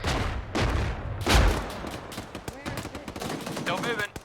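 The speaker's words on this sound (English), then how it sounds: "Those reloaded, firing." Gunfire crackles in rapid bursts with a heavy boom early on, then scattered sharp shots, under brief speech-like chatter in a combat setting.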